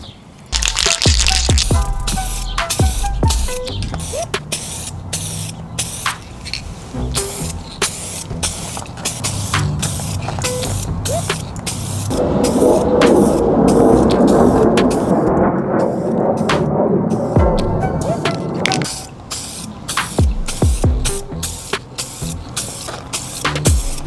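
Aerosol spray paint hisses in long, steady bursts across a Mitsubishi Lancer Evo 8 car part, with short clicks and rattles between passes and one extended, louder spray near the middle.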